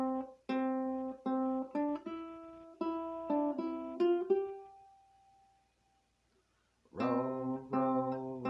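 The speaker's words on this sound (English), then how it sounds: "This is how you play the first part of the melody line of Row, Row, Row Your Boat" Ukulele picking out the opening melody of Row, Row, Row Your Boat as clear single notes in a steady rhythm; the last note rings out and fades into a few seconds of silence before the strummed notes begin again.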